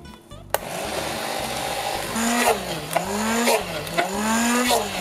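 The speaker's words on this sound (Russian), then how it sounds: "буду взбивать погружным блендером" A handheld immersion blender whips frozen fruit, whirring steadily for several seconds, its motor pitch rising and dipping in repeated cycles as it churns, with occasional clunks against the container.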